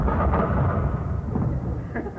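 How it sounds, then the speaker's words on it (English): Thunder rolling through a storm, a deep sustained rumble heard alone, loud and continuous without any distinct crack. "Thunder and storm."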